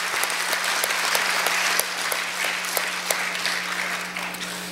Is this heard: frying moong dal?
no